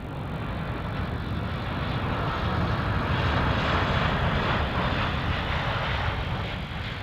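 An airliner on an Adelaide service touches down at Melbourne Airport, a steady, loud broadband engine roar that holds constant and swells slightly in the middle, heard fairly close with no voices.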